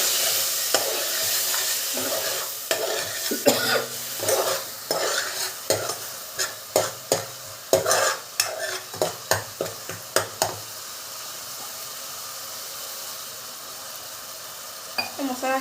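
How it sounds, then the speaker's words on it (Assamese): A ginger-garlic spice paste fries in oil for an egg curry while being stirred, with a steady sizzle under a series of regular, close scraping strokes that stop after about ten seconds as the frying hiss continues. "মই ইয়াতে দি ল'ম এই মছলা গোটেইখিনি ভাজি ল'ম"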